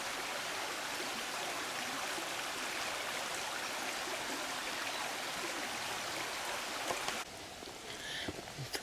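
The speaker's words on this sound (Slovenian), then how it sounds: "Evo, lepo voda teče." Clear water flows in a small hillside stream near a footbridge, a steady close rushing babble lasting throughout, with a few faint knocks near the end.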